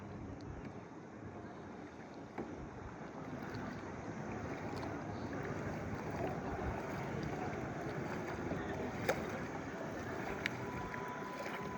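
A small boat moving across water, with a steady wash of water and wind noise and a few faint knocks, fairly distant and even.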